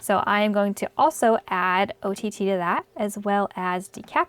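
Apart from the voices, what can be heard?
No everyday noise stands out behind the speech.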